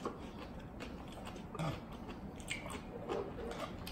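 Biting and chewing radish kimchi during a mukbang meal: close, soft crunchy bites with wet chewing, a few slightly louder crunches standing out over steady mouth noise, with no talking.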